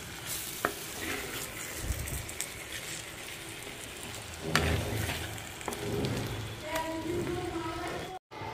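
Chicken fry stirred in a pan, with a continuous close sizzle and repeated scraping strokes of the spoon; a voice speaks faintly underneath.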